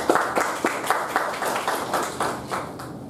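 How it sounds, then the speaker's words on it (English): A few people clap in a steady, sparse rhythm, distinct individual claps at moderate volume with no talking. "Give him a big round of applause."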